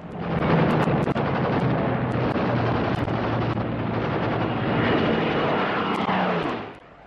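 Engines of Allied WWII aircraft in flight over France in 1940, a dense, steady droning roar that holds loud and close before fading away at the end.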